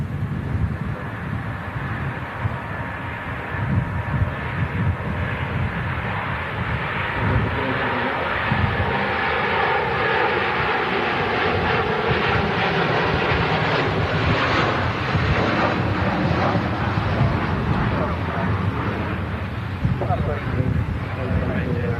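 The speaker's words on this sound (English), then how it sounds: "Off it goes, A330, blasting out of Manchester." Airbus A330 taking off from Manchester Airport, a loud sustained jet engine roar heard from a distance with heavy wind buffeting the microphone throughout.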